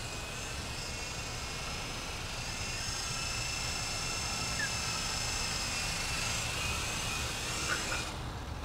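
A remote-control helicopter carrying a big light flies at night and comes in to land, its rotor and motor giving a constant, even whirring drone that cuts off abruptly near the end.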